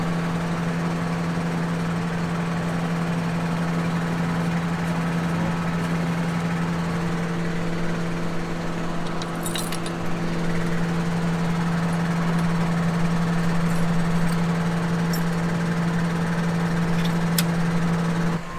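A farm tractor's engine runs at a steady, loud drone with a strong low hum, while its hydraulics raise a mounted roller machine; the sound stays continuous and close throughout, with a few brief higher clicks midway and no talking.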